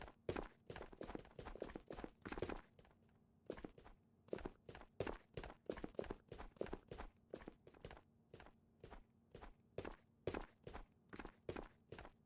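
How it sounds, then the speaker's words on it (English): Player footsteps in the video game Ghosts of Tabor thud in a rapid, regular series of distinct steps, with a few short pauses between runs of walking, fairly quiet and with no talking. "I hear his footsteps like all around me."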